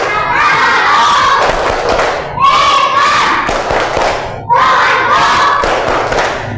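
A classroom of children loudly shouts the Tepuk Islam clapping chant in unison, three strong rhythmic bursts of voices punctuated by claps and thumps, close and energetic.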